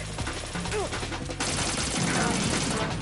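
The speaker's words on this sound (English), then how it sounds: "Somebody's chucking grenades." Metal Gear Solid 2 gameplay with grenades going off: a dense barrage of blasts and gunfire-like bursts rolls on continuously, growing heavier in the second half, with brief game sound effects mixed in.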